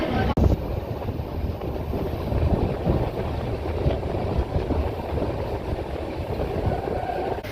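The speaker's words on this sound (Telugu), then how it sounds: "అలా ట్రైన్ జర్నీ ఎంజాయ్ చేసుకుంటూ పోతున్నా" A passenger train carries riders on the long run from Vijayawada toward Varkala, giving a steady, unbroken rolling rumble mixed with wind buffeting the microphone throughout, close and fairly loud, with a brief knock near the start and no voices.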